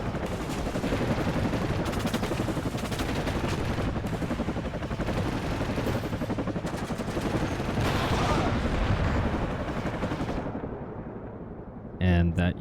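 Gatling gun fire in the real-time strategy game WARNO, hammering infantry with a sustained, dense, rapid roar of shots that runs steady for about ten seconds, close and loud, before cutting off abruptly.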